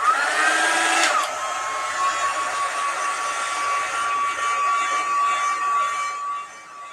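A hair dryer blows steadily and loudly, drying freshly applied chalk paste, with a brief rising whine at the start before settling into a continuous close whir that fades slightly at the end.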